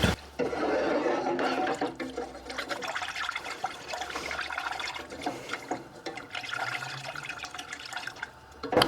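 Milk pours steadily into a roux in a cooking pan, a continuous liquid splash and gurgle lasting several seconds with no voices.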